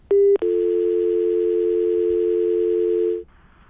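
A loud, steady telephone dial tone sounds after a caller hangs up, starting with a brief click and blip and then holding as an unbroken hum for about three seconds before cutting off.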